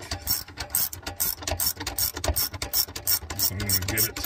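Ratchet clicking while tightening the emergency brake cable adjuster on a Jeep TJ, a fast run of close, crisp pawl clicks in repeated bursts, with no talk.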